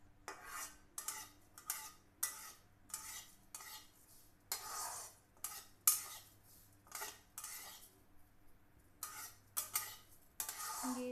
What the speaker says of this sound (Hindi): और इसको लगातार चलाते हुए भूनना है